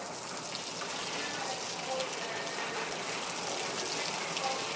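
Water poured onto a freshly transplanted banana plant grown in a crocus bag, a steady close gush and splash of liquid running without a break.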